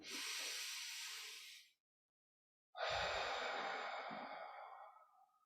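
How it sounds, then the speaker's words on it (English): A slow, deep breath drawn in, a silent pause, then a long airy exhale pushed out through the mouth, close and clear with no talking, as in a guided relaxation exercise. "Let's take another deep breath in."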